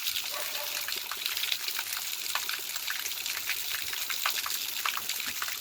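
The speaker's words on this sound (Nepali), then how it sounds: "आफ्नो गाउँको धाराको पानी कति वर्षमा आउनु भइछ" Water pours steadily from a village water spout, a continuous close splashing trickle with no talking over it.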